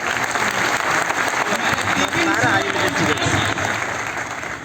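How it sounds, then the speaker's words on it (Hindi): An audience breaks into sustained applause, a thick, even wash of many hands clapping at once that holds steady before easing slightly at the end, with voices mixed into the crowd noise. "ताली बजाइए।"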